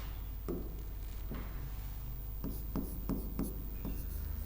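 Pen writing on paper, close and quiet: a few scattered strokes, then a quicker cluster of short scratchy marks over a low steady hum, no talk.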